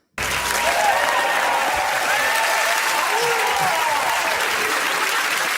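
Studio crowd applause played back starts abruptly and holds as a dense, steady wash of clapping and cheering for several seconds.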